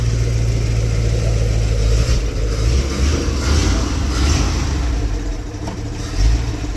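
A ZIL-130 truck's newly installed engine runs loud and close with a deep, steady rumble and slight rises in revs, with no talking.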